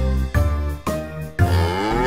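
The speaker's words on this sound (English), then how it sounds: "A cow is in the barn." A cow in a barn moos three times in succession, loud and close, each call deep and sustained.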